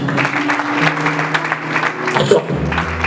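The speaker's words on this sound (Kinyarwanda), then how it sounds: "dukomera amashyi." Applause from an audience at a gathering: a continuous wash of many hands clapping at a fairly loud, even level throughout, with a faint low hum beneath and no clear voices.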